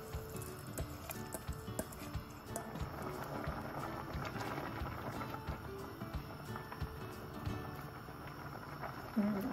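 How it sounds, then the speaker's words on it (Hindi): Water with vegetable oil and rice for a ground beef qeema biryani boils in a pot, a soft, steady bubbling and crackling simmer that continues quietly throughout. "पानी बॉईल हो रहा है"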